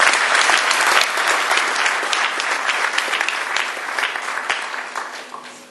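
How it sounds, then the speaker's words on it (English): Applause from a seated audience at a residential school speech event in Zambia, a dense burst of clapping that starts loud and slowly thins and fades over about six seconds, with no talk over it. "Let's give ourselves an applause."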